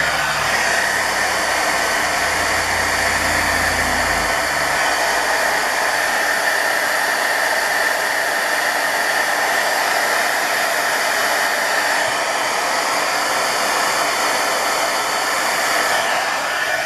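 A hair dryer blows steadily and loudly across a journal page to dry fresh ink, a continuous close-up whoosh holding the same airy roar from start to finish with no talking.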